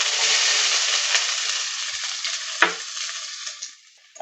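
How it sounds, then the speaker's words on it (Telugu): A cup of chopped onions sizzles in hot oil, a loud, steady frying hiss throughout, with a few scraping stirs near the end and no voices. "అయితే ఈ ఆనియన్స్ చక్కగా వేగినంత వరకు ఇలా మనం కలుపుతూ ఉండాలి."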